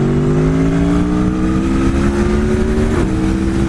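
Aprilia Tuono motorcycle engine droning loud and close at steady revs, a sustained mechanical hum that shifts pitch briefly near the end, with no talking.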